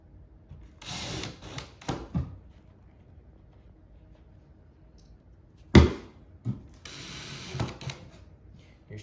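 Short black screws being driven into a shelf, giving several separate bursts of whirring and grinding with quiet gaps between them, close by and moderately loud.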